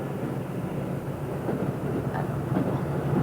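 A Shinkansen high-speed electric train runs out of Tokyo, drawing 16,000 electric horsepower, heard as a steady rumbling rush with faint rhythmic clatter, continuous and fairly loud throughout.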